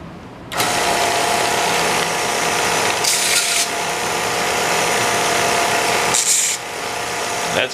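A loud, steady mechanical grinding whirs close by, with brief harsher rasping bursts as the raw sawn edges of a metal rod are deburred against it.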